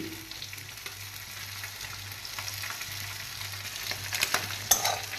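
Cabbage frying in fish oil with chopped green chilli and tomato, a soft continuous sizzle under occasional stirring scrapes, growing a little louder with sharper spatula clicks toward the end.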